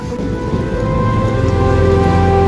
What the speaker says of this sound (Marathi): एकदम मुसळधार पावसाला सुरुवात झालेली आहे मित्रांनो